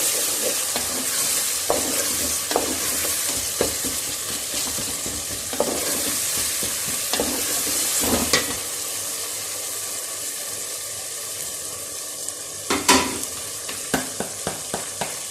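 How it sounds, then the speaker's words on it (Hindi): Chicken frying in a pan with cinnamon, black pepper and cumin, a constant close sizzle punctuated by irregular scraping and knocking of the stirring spoon, busier near the end. "अब मैं चिकन डालने लगी। मैंने चिकन को अच्छी तरह भूनना है।"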